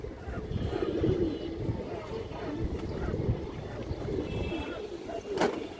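Large, big-headed fancy pigeons coo steadily at a farm. Low, throaty calls overlap at a moderate level against a soft background hum.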